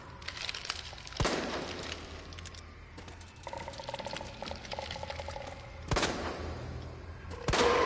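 Gunfire in the Resident Evil 2 Remake video game, with several sharp broadband shots cracking out in bursts at about 1, 6 and 7.5 seconds over a busy background of game effects and rattling.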